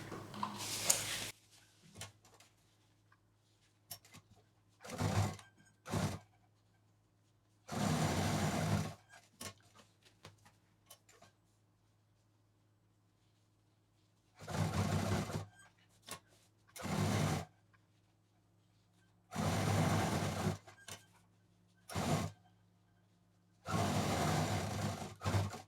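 A sewing machine runs double rows of stitching on a cloth shoulder shopping bag in short, loud bursts of a few seconds each, separated by near-silent pauses.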